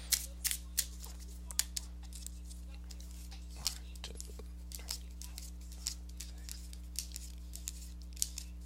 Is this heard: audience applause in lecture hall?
no